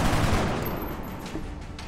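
Gunfire from the XCOM Long War video game, a dense, loud burst of shots at close range that fades slightly toward the end, with no voices.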